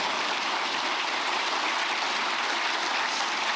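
A hall audience at a public-officials workshop claps together, a dense, even wash of applause heard at moderate distance with no speech.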